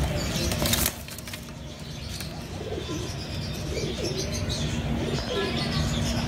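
Pigeons in a home loft beat their wings in a loud flurry of flapping, followed by a steady rustle of birds and soft cooing.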